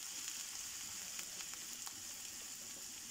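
Onion frying in a pan gives a soft, even sizzle with occasional faint pops, steady throughout and quiet, with no voices.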